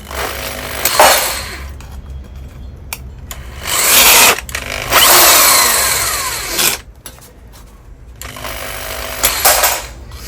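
A homemade drill-powered shear cuts sheet metal in loud, whining bursts of a few seconds each, with short pauses between passes and no speech.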